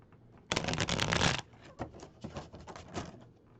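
A deck of cards shuffled for a reading: a dense, loud riffling burst up front, then softer, uneven slides and taps of cards continuing alone, close by.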